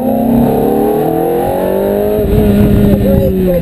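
A car on a cone-marked driving course accelerates at full throttle after a corner, the engine note steady and loud with rising harmonics throughout, while an instructor talks over it.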